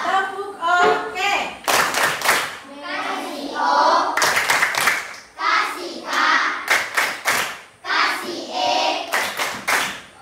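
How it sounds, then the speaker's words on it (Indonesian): Classroom children at a primary school clap in short rhythmic bursts, several sharp group rounds of hand claps close by, alternating with a teacher and children talking. "Kita beri tepuk tangan."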